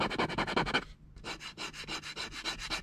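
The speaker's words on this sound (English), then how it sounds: "That's my fingernail grabbing all the little layer lines." A fingernail scrapes across the ridged layer lines of a sanded PLA 3D print, giving quick, soft, raspy strokes in a steady back-and-forth rhythm with a brief pause, close and faint.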